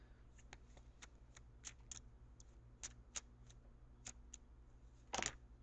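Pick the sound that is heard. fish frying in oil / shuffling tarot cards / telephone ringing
shuffling tarot cards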